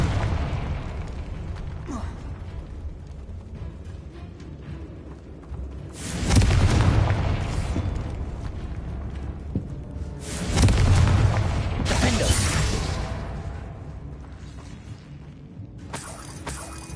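In Hogwarts Legacy, the Confringo fire spell sets off two loud, rumbling explosions a few seconds apart, each a heavy booming burst with crackling debris that decays slowly over a low ambient game background.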